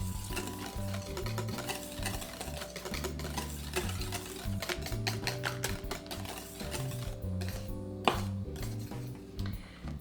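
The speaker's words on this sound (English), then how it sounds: "I'm going to mix everything together and then fold in that whipped cream" Custard pie filling being stirred and whipped cream folded in by hand, giving steady wet scraping and clinking of a utensil against a bowl, close and continuous with a sharper knock near the end.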